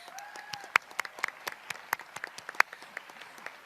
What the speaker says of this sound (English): If you could give them a quick round of applause.